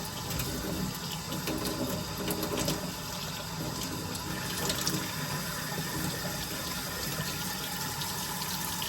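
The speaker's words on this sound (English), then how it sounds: "I've got hot water out here. So I'm just going to make sure it's the right temperature." Hot water runs from an outdoor tap in a steady, even gush that continues without a break for several seconds.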